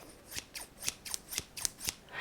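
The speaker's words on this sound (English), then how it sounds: "that sound, and then the feeling of the blades, like the friction, that's how you know when it's a good pair of scissors" A pair of scissors snips through material in about seven crisp, quick cuts, each a bright metallic slicing sound, close and quiet with no talking.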